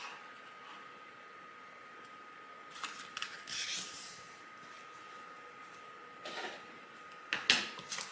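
A printed Christmas card being folded in half by hand, with a few short papery rustles and creases in bursts against a quiet room hum.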